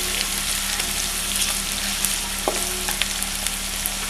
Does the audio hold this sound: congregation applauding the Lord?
no